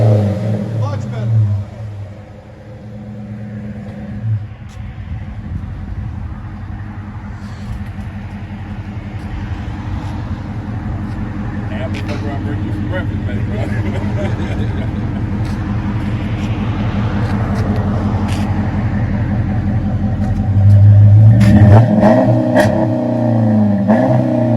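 Deep, steady V8 rumble from a 2013 Dodge Challenger 5.7L HEMI with Flowmaster 40 Series mufflers, an X-pipe and resonator delete. The engine is heard up close and swells into a louder rev near the end.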